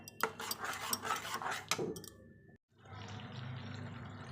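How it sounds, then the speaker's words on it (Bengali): A spoon scrapes and clinks against a pan while stirring a salted ginger-garlic spice masala, with close, rapid metallic clatter that pauses briefly before a softer, steady sizzling scrape resumes. "এবার একটু নেড়ে দেবো আর মশলাটাকে ভালো করে কষিয়ে নেব"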